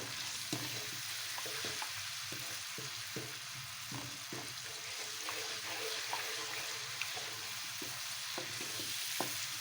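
Red lentils with salt and turmeric sizzle softly while being stirred and roasted in a pan, a steady frying hiss with repeated light scraping strokes of a spoon, close and fairly quiet.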